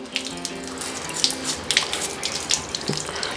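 Tap water runs over a Canon 90D camera being rinsed clean, a continuous close splashing stream broken by irregular spatters and drips.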